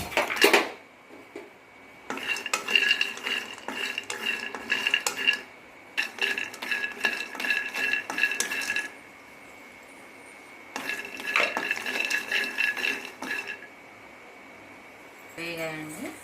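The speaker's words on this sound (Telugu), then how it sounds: "అంత జీడిపప్పును కూడా ఫ్రై చేసుకుందాం" Cashew nuts and almonds fry in a pan for sesame laddu, with close spatula scraping and clinking against the pan in several long bursts over a faint sizzle, separated by short quieter gaps.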